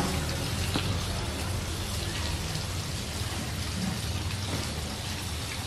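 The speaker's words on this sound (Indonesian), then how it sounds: "Kalau disiram airnya langsung lewat, teman-teman, karena medianya porus." Water poured over the porous potting medium of an aglaonema pot drains straight through with a steady, close, rain-like hiss and patter, continuing evenly with no voices.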